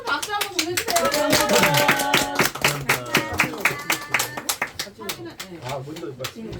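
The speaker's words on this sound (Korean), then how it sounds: "큰 박수 한번 보내주세요" Audience clapping at a Korean author's book talk in a picture-book shop, brisk close claps that thin into scattered claps as voices and chatter rise over them.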